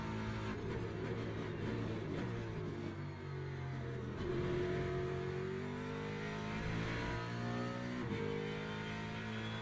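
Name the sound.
racing car engine in video game Le Mans Ultimate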